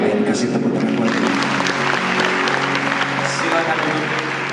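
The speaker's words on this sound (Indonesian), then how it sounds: "Kasih tepuk tangan buat Tuhan." A church congregation applauding during worship, a broad continuous wash of clapping from many people, loud and sustained, with some voices mixed in beneath it.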